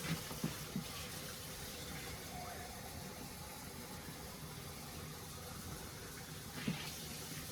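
Water runs steadily from a kitchen sink tap in a continuous broadband rush, with a few faint clinks at the start and end.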